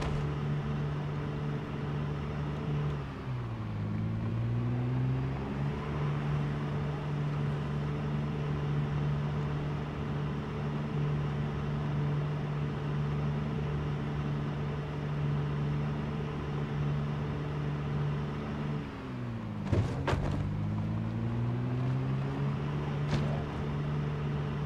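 A slow car drives in Project Zomboid, a steady droning engine hum with a clear tone that dips twice in pitch as if shifting or slowing, then settles back, running alone and fairly quiet.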